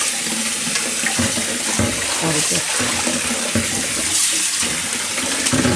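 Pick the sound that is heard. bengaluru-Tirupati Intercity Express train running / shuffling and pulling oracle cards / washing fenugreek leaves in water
washing fenugreek leaves in water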